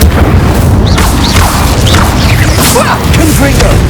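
Fire spell cast during a hectic Hogwarts Legacy battle against beasts, a dense roaring burst blending with booming impacts, whooshes and shouted spell names over a loud, continuous game soundscape.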